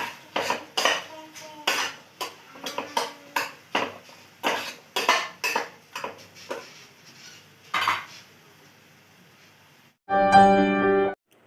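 A metal spoon scrapes and clinks against a pan as tomato chutney with sugar is stirred, giving a run of quick, close, rhythmic knocks that fade before a short burst of steady noise at the end.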